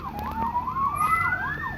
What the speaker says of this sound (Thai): รถตำรวจ มาดิ รถตำรวจเหรอ